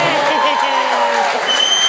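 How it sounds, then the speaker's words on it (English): Short burst of audience applause and cheering for a woman dancing on stage at Raglan Road, dense clapping heard over a speaking voice. "A big round of applause for Molly there."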